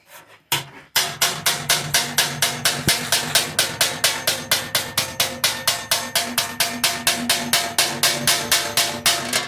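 A hammer strikes metal at an angle to roll an edge: a long, even run of sharp, ringing blows at a brisk, steady pace, loud and close, following a couple of lighter taps at the start.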